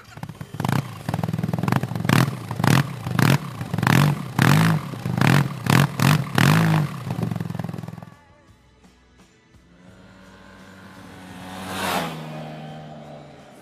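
Yamaha TMAX 530 maxi-scooter from 2015 revving hard through a rapid series of throttle pulses, followed by a quieter stretch of riding with a rising engine swell near the end.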